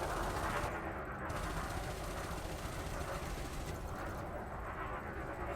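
Ship weapons fire steadily at wanted ships during an Elite Dangerous space fight, a dense continuous rattle of rapid shots over a low engine rumble, loud and unbroken throughout.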